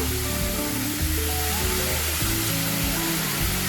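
Onions frying in a pan as garlic paste goes in for a chicken curry, a steady dense sizzle with an even hissing texture throughout.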